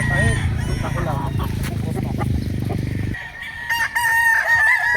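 Rooster, a broodcock, crowing loudly and close in the second half after a stretch of clucking and low fowl noise.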